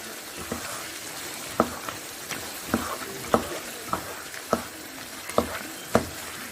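Potato chunks frying in masala inside a pot, a steady sizzle under repeated sharp scraping stirs at a roughly regular pace, close and moderately loud with no talk.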